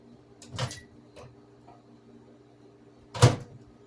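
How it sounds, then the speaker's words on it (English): Two clunks of a microwave oven door, a softer one early and a sharper, louder one near the end, over a low electrical hum. "Let me get the cream out of the microwave."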